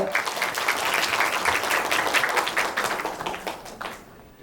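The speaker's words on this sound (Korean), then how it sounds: "박수로 축하해 주십시오" Warm audience applause at the opening ceremony of a national urban farming activists' conference in Incheon, steady dense clapping that tapers off near the end.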